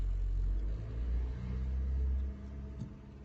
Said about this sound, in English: You put in gear, give it gas,